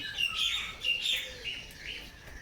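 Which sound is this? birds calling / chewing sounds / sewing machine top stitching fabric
birds calling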